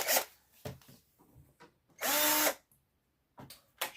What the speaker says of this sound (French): Ok, on visse.